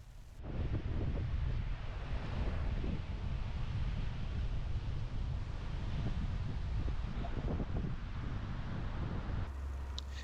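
Surf rolls in at an Australian east coast beach with bigger-than-usual waves, a continuous loud roar of breaking water mixed with gusty wind rumble on the microphone, with no talking.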